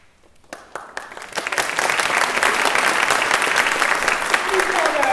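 An audience at a university music department graduation ceremony breaks into applause, starting with scattered claps and swelling into loud, sustained clapping that fills the hall, with faint voices underneath.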